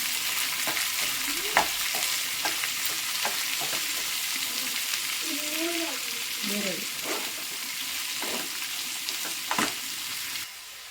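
Vegetables for a healthy breakfast dish hiss loudly in a pan as a spoon turns them, with regular taps and scrapes against the metal, while a faint voice briefly murmurs in the background.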